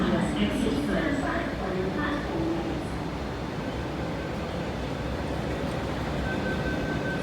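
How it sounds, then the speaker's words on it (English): An MTR train arrives at Kowloon Bay station in a steady, continuous rumble and rush of platform noise, with faint voices or announcements blended in throughout. "The train to Whampoa is arriving."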